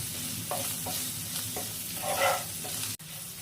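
Potatoes sautéed with spices in a pan for a chal kumror tarkari, a soft steady sizzle broken by scraping stirs and one sharp clack near the end, without speech.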